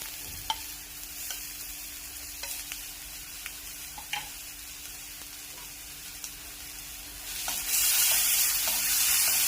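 Curry leaves and green chili paste sizzle in a hot pan while a spoon stirs them, giving a steady frying hiss with soft scraping clicks, and the sizzle grows louder and brighter near the end.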